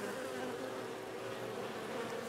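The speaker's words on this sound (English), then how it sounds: "We got some bees in here." Bees buzz steadily inside an owl box hive, a close, continuous drone with no break across the short stretch and no voices.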